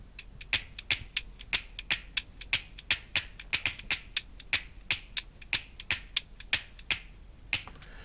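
A percussion loop from the Arcade sample library plays alone, with crisp, evenly spaced clap- and snap-like hits in a steady, fast rhythm that repeats throughout.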